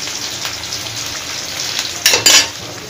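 Dal sizzling and frying in a pan for a bottle gourd and shrimp dish, with a steady crackle throughout and a couple of louder stirring scrapes near the end.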